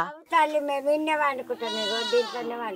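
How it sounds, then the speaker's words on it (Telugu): Goats kept inside a hut to shelter from the rain, bleating loudly and close by in a run of overlapping, wavering calls with barely a pause. "ఒక గుడిసె దగ్గర మేకలు గోల వినిపిస్తుంది సౌండ్ ఒకసారి అరుపులు వినిపిస్తున్నాయి"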